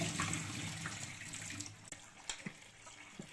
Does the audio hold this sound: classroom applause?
no